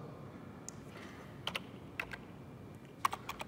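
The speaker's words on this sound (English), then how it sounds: "I'm typing one here in control." Keys on a computer keyboard are tapped in a few short, sparse bursts, quiet clicks spaced apart over a faint steady room hiss.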